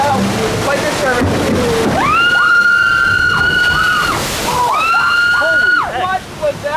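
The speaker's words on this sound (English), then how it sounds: "that was a lot of water. Going straight for my face." Water sloshes and splashes heavily on the Splash Mountain log flume, a loud continuous rush with people shouting and whooping excitedly over it at close range.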